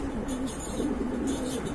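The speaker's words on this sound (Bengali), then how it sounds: "একেবারে কোয়ালিটি ফুল কবুতর।" Pigeon cooing softly in a loft, low murmuring coos under a steady background hiss with faint higher chirps; no talk.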